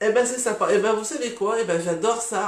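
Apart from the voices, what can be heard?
No everyday noises stand out.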